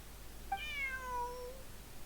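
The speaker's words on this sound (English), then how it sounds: "Bonnie is Pierre's cat" A cat in the video game Genshin Impact gives a single drawn-out meow that rises and then slides downward, faint and clear over a quiet background hum.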